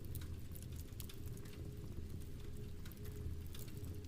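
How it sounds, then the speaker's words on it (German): Steady rain patters on a treehouse with a low, even rumble and soft dripping texture, continuous and close, with no voices. "nur getragen vom Regen"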